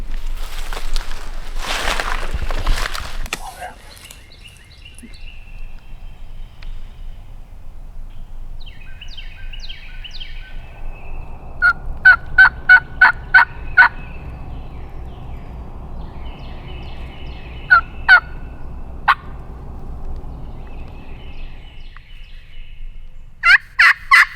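A wild turkey in a Mississippi pine thicket gobbles several times at a distance, each call a quick rattling burst. The calls come in separate clusters over faint outdoor ambience, with a loud rustle near the start.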